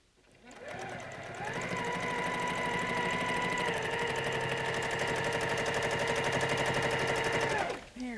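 A quilting sewing machine stitches through a quilt in one steady, loud, continuous run of rapid needle chatter, starting up just after the first second and cutting off near the end.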